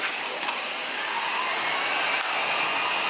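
A Henry cordless vacuum cleaner runs continuously, a steady loud airy whir with no talk.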